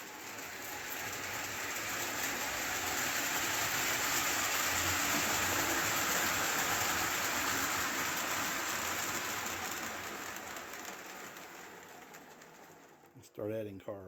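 Lionel O scale Alco model locomotive pulling a string of cars up a hill, a steady whirring rumble with rail noise that holds for most of the stretch, then thins and ends in a few brief knocks and a short voice.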